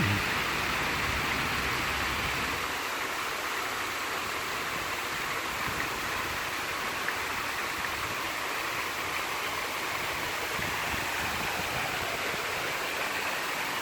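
A waterfall and flowing stream give off a soft, even rush of water, a constant broadband hiss heard from a moderate distance with no talking.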